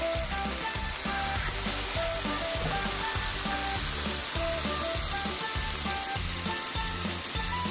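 French toast bread pan frying in butter, a steady loud sizzle with crackling spatter running throughout alongside a rhythmic clatter, with no talking.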